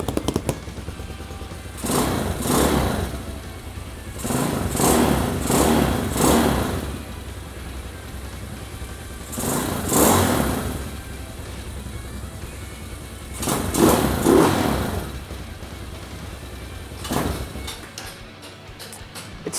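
A rebuilt Hawk 250 motorcycle engine idles unevenly and is blipped in several loud throttle bursts that rise and fall over about twenty seconds, close by, with the idle settling between revs.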